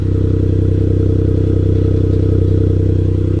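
Suzuki Cappuccino turbo engine idling through an aftermarket exhaust with a big downpipe, recorded up close as a loud, steady low rumble with an even throbbing pulse and no voices.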